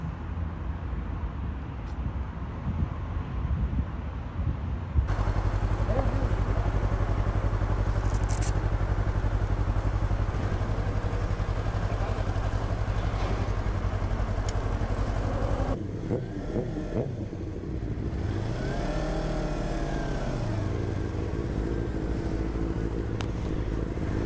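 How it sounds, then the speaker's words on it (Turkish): A brand-new Yamaha R25 motorcycle engine running nearby, steady and loud at idle, with a shift in tone partway through as it revs up and then settles back down. "Motoru sürdüm."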